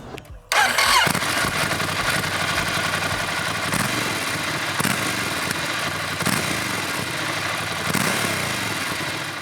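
A Ducati Scrambler Urban Motard L-twin engine starts with a sharp burst, then revs loudly and close, the throttle rising and falling in repeated swells.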